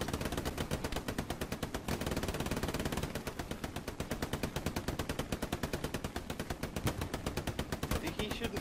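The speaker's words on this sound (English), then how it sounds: "Machine gun, it would probably melt." A machine gun fires a long, rapid, unbroken stream of shots, each report close and hard, with no pause in the burst.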